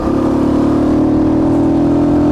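A Flash 150 motorcycle engine revs hard and steady, a loud, close, sustained buzzing roar with no speech.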